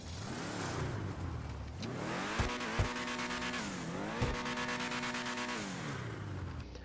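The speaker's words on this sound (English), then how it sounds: "Car even sounds really good as well." A Mercedes LM87 race car in a Rockstar video game, its engine revving high and dropping through repeated gear changes, two loud rising and falling sweeps with sharp shift pops, heard close without any talking.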